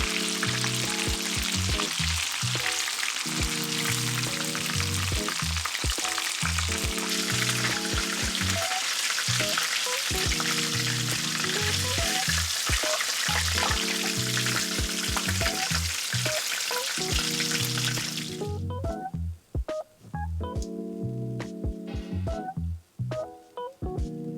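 Steady, loud sizzling of chicken karaage deep-frying in hot oil during its second fry, a dense crackling hiss with small pops throughout, easing slightly toward the end.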